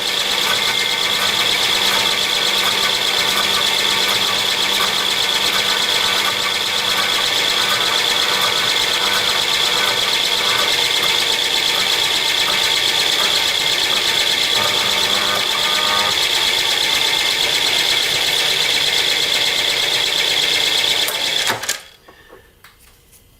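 A slitting saw cutter disc cutting metal on a milling machine gives a steady, loud, high-pitched whine and grind for about twenty seconds, then cuts off abruptly near the end.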